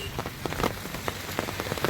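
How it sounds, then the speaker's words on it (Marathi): Heavy rain patters densely on a surface, a constant close hiss with sharp, irregular drop impacts throughout. "पाऊस जरा जास्त आहे"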